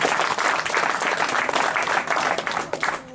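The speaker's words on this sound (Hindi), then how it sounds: "एक बार सबके लिए जबरदस्त तालियां हो जाए।" Loud, sustained clapping from a crowd at a marketing plan presentation, dense and continuous before it tapers slightly at the end.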